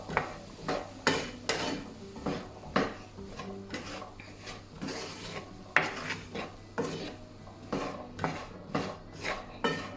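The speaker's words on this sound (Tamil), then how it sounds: "இனி மிக்ஸ் பண்ணி விட போகிறேன்." Jaffna-style spicy chickpeas with squeezed lime juice being mixed in a bowl, with rhythmic scraping and clinking of a spoon against the dish, repeated strokes at close range and no voices.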